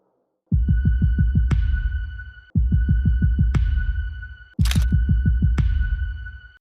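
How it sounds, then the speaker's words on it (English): A slow, steady heartbeat-like thumping repeats in three loud, close bursts, each a fast run of low thuds capped by a sharp click, with short gaps of silence between them. "Can I listen to your heartbeat?"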